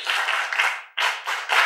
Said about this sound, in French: Les amis, applaudissez pour la guérison et le retour de Kossi à l'école.